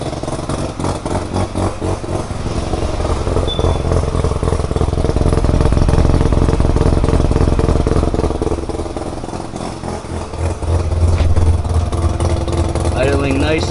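A Mazda FC RX-7 rotary engine idling after its first start in six years, a loud close steady burbling idle with slight surges, while people talk over it.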